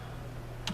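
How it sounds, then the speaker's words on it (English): Rapid keystrokes on a computer keyboard enter a line of Python code, with a short quick burst of clicks near the end after a moment of quiet room tone. "in this file, let's type in a variable"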